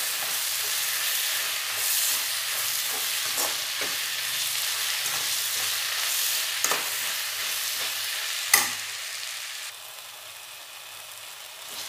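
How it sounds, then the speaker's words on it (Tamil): Onion and tomato frying in a pan for kurma, a continuous hissing sizzle with soft scraping strokes from stirring and an occasional sharper knock of the spoon, close and steady throughout. "தக்காளி பார்த்திங்கன்னா நமக்கு வந்து நல்லா மசிந்து வரக்கூடிய அளவுக்கு வந்து வதக்கிக்கிடணும்."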